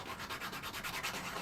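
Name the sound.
coarse sanding stick roughing up plastic sprue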